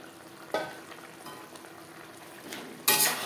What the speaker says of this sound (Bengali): মাছের মাথা 2-3 মিনিট নাড়াচাড়া করে নেব